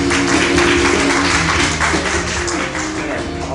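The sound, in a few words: audience applause for the novelist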